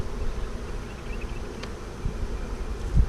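A honeybee swarm being installed into a hive gives a continuous close buzzing drone that holds steady throughout, with a few soft bumps and no talking.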